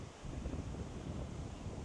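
Strong wind buffets the microphone on a lakeshore at Lake Vänern, a steady low roaring rush with surf-like noise filling the whole stretch, loud and unbroken with no voices.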